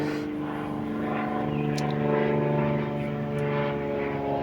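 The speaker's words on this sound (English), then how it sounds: "As the plane flies over us" A low-flying propeller airplane passes overhead, its steady droning engine hum with layered harmonic tones holding loud and close throughout, swelling slightly at the midpoint as it crosses above.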